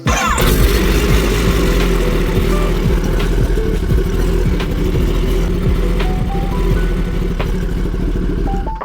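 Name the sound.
Kawasaki ZX-10R motorcycle engine starting and running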